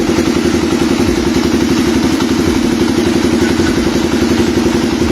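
A freshly overhauled RKS 150 motorcycle engine running at steady idle close by, a loud, continuous rapid clattering thump with an even beat and no voices over it.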